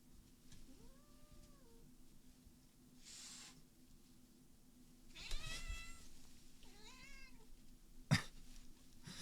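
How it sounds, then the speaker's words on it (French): A domestic cat meows repeatedly indoors, several separate rising and falling cries spaced across the stretch with quiet gaps between, ending with a sharp bump or clatter near the end. "Je n'en peux plus de ce chat."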